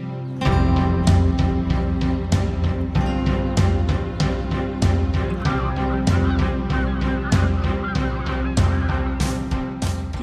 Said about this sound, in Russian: Здесь можно встретить очень много видов птиц.